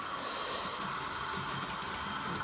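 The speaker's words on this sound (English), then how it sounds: "So now I've got 3-4 trains running." Several model trains run together on a layout, giving a steady, dense rumble and hiss with faint clicking from the track, close by and continuous with no talk.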